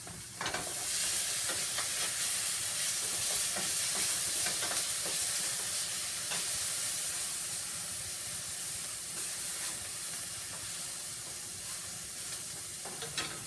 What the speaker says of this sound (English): I'm gonna stir my chicken real quick.